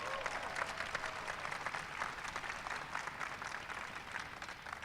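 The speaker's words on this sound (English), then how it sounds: "Give him a big round of applause." Steady applause from an audience at a White House astronomy night event, a continuous dense patter of clapping held at an even, moderate level throughout.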